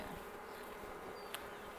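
Honeybees buzzing around a newly installed nuc hive on a farm, a faint steady drone of many wings with one bee briefly passing close to the microphone.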